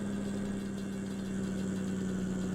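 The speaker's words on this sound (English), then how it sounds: "Wow, are we going to have a diesel engine runaway? Jeez. What kind of RPMs is this thing able to run on?" Diesel locomotive engine in Run8 Train Simulator holds a steady, loud, low droning rumble at high revs with a constant hum and no change in pitch, heard alone without talk.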